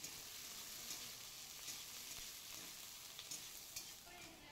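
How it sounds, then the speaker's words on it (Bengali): Sliced onions with green chilies fry in a pan and are stirred, giving a steady close sizzle with occasional scraping clicks from the utensil, and no voices. "পেঁয়াজটাকে কিছু নাড়াচাড়া করে কিছুক্ষণ।"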